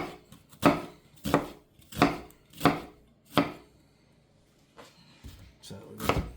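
A knife slices thin onion on a cutting board, five crisp chops in an even rhythm followed by a pause and a few softer, scattered cuts, close and clear with quiet talk in the background.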